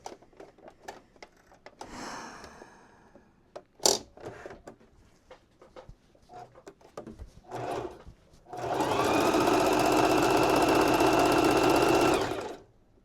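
A sewing machine stitches a custom mermaid tail in one steady, loud run of about four seconds, after scattered quiet handling clicks and rustles of fabric.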